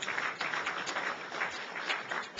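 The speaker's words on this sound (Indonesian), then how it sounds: "Tepuk tangan bagi Allah kita." A church congregation applauds together, a steady, faint wash of many hands clapping at a distance, sustained throughout with no talk over it.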